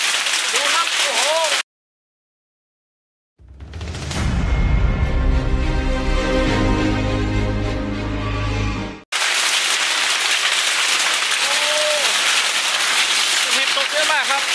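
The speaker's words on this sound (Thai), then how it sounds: "ลูกเห็บตกเยอะมากครับ" Heavy hail and rain pound a house in a mountain hailstorm, a dense loud clatter that drops out to silence for a moment and then returns as a dull roar before the sharp rattling resumes. A voice exclaims over it.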